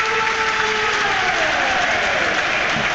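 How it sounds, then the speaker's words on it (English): Sustained stadium applause from the home crowd at Portsmouth for Callum Lang after his four-goal game against Coventry City in the Championship, a dense, steady roar of clapping with faint whistles, loud and continuous throughout. "There is the applause for Callum Lang, the first Portsmouth player since Yakubu in 2004 to score 4 times in a game"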